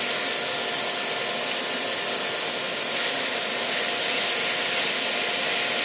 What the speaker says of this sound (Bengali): তা আমি এই মুহূর্তে গাজর আর পেঁপেটা দিয়ে দিচ্ছি। এটা একটু ভাজবো।